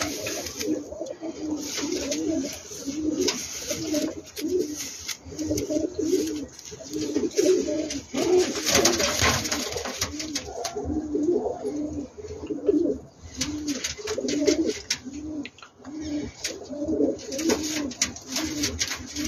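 Young Uzbek pigeons coo continuously with repeated soft, throaty rolling calls at close range, several birds overlapping in an uneven rhythm with light rustling and no talk.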